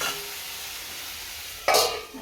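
Water hits vegetables frying in ghee for a veg pulao, turning a steady low sizzle into a sudden loud hiss near the end that quickly fades back down.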